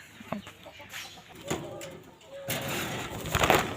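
A male pigeon coos close by in a few short, soft throaty calls, with faint background noise around them.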